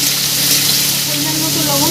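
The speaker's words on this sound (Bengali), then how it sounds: "300 গ্রাম চিংড়ি মাছ দিয়ে দেবো তেলের উপরে" About 300 grams of shrimp hit hot oil and sizzle loudly and steadily in a close, continuous fry while cooking a kochu dish.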